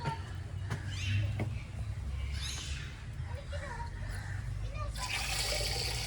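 A push-button drinking-water tap at a zoo gushes into a basin with a sudden bright splashing hiss near the end, after ambient outdoor noise and faint voices.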